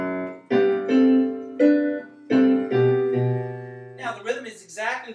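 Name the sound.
classic rock piano riff played slowly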